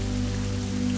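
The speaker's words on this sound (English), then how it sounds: "Heavy, almost ponderous droplets of rain drummed against the fabric of Jasper's sturdy umbrella" Rain drops falling in a steady, dense patter over a constant low hum, with no voices and no distinct individual drops standing out.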